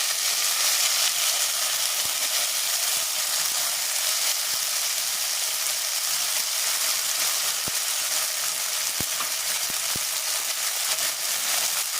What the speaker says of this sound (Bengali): মশলাটা ভেজে দিয়েছি আমি